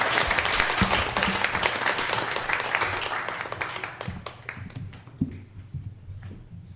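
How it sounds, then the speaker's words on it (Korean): A church congregation applauds at a Sunday worship and ordination service, sustained dense clapping that thins out into scattered individual claps toward the end. "박수로 찬양하시겠습니다."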